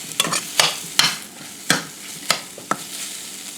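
Eggs frying in a pan, a quiet steady sizzle with several sharp scraping or stirring clicks spaced irregularly, no voices.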